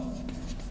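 A short burst of writing on a board during a chemistry lecture: a quiet scratchy stroke or two against a faint background hum.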